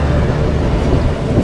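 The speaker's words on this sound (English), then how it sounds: "An approaching downpour threatens to grow into a lightning storm." Low, steady rumble of thunder from an approaching downpour high above the Marina Bay Sands construction site in Singapore, loud and continuous, blended with wind and rain noise.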